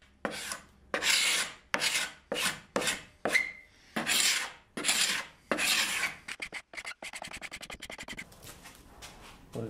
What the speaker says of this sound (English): Then use my carbide scraper just to clean up any of the old finish that was still stuck on.